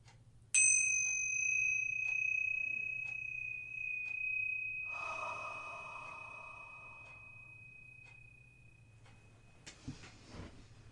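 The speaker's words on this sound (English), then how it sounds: "we're going to take a minute to ring the tingsha bells and get started" Tingsha bells are struck once, a bright sustained metallic ring that lingers and slowly fades over several seconds against a quiet room with faint background hum.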